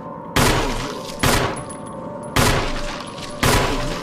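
Four loud, sharp gunshots from a Resident Evil video game boom at irregular intervals, each leaving a ringing decay, with no talk over them.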